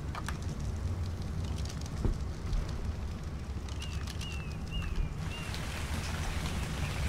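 Steady rain pours in the survival video game Ark: Survival Evolved, a dense, even hiss with a few faint bird chirps rising briefly partway through.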